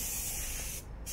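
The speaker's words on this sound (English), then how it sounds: "he's also got this spray gun now" A spray gun hissing out antibacterial spray to sanitise a 2014 Ford Fiesta 1.0 EcoBoost Zetec, a loud, close, steady hiss with a brief break before it resumes.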